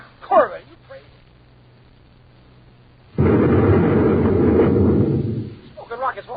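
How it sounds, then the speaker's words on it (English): A space grenade goes off in a radio drama, with a loud, sustained roaring blast that rumbles for about two seconds before fading. Voices talk briefly before and after it. "Smoking rockets, what was that? Space grenade."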